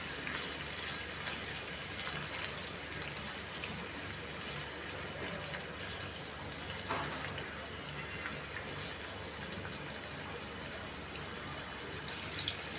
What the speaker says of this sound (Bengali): এবার আমি এখানে 1 কাপ পেঁয়াজ কুচি ইউজ করছি। পেঁয়াজটাকে আমি লাল লাল করে ভেজে নিব।